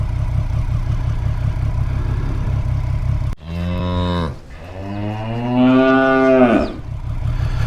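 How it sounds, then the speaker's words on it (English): A cow on a road lets out two long, loud, drawn-out moos from close by. A motorcycle engine idles steadily underneath, and the bike's low rumble fills the gap before the first call. "Fuck off, cow."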